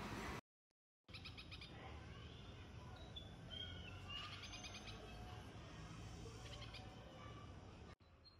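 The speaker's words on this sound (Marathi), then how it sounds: "हे ते दोन बुलबुल पक्षी." Two bulbuls call near a nest branch where they watch their fledglings, short chirping notes scattered faintly over a steady outdoor hiss, with a brief silent gap near the start.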